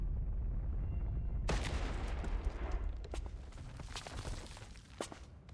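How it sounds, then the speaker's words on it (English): An explosion blowing a door apart in Reverse 1999 sets off a sudden broad blast that rolls into a sustained rumbling debris wash, with scattered sharp cracks and thuds trailing off over several seconds. "The explosion sends smoke and dust flying in all directions"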